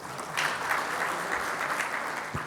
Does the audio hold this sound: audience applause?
yes